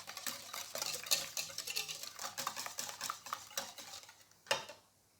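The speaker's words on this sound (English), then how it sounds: "you're just going to whisk all of this together until the ingredients are mixed and combined" Wet ingredients for sticky toffee pancakes being whisked together in a bowl, a quick, close run of rhythmic clinking and scraping strokes that stops with a final tap.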